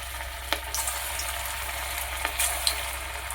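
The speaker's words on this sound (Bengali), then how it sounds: "এবারে এগুলোকে নিয়ে একটা একটা করে কড়াইতে দেব।" Chicken pakoras fry in hot oil in a wok, giving a steady close sizzle with a few sharp crackles and pops breaking through the bubbling.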